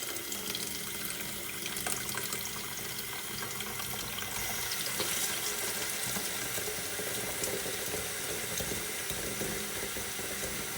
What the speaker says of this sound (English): fill the watering can up.